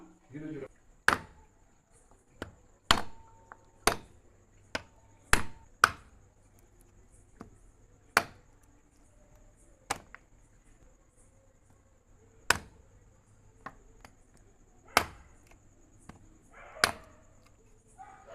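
A blade chopping cleaned goat trotters into pieces for soup on a board, a dozen or so sharp, separate knocks spaced irregularly a second or two apart over a quiet background, with faint voices at the start and end.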